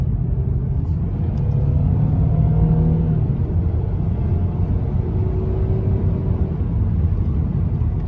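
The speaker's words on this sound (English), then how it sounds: "I'll give you guys a bit of a acceleration pull in a second." Lexus ES sedan accelerating on a highway, with a loud, steady engine rumble rising smoothly under road and wind noise and no talk.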